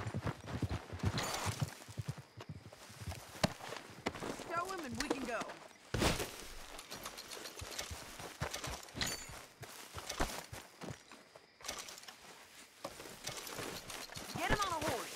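Horse hooves clip-clop at a walking pace in the Red Dead Redemption 2 western game, steady and fairly close under frequent male dialogue.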